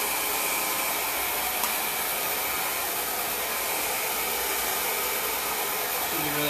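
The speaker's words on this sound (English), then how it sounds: "I'm gonna just kind of power dry this." A Parlux Alyon hair dryer runs continuously at high power while blow drying short hair, a loud, steady close-up whoosh throughout with only slight variation.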